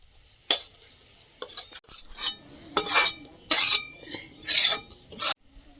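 Cooked chicken, potato and cabbage filling poured out onto a plate in a home kitchen, with a string of scraping and clinking bursts of utensil against dishware, close and fairly loud.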